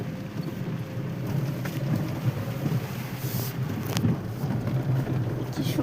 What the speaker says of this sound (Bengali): কি সুন্দর বৃষ্টি হচ্ছে।